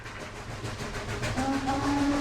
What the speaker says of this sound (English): The train rolled through the town of Handley.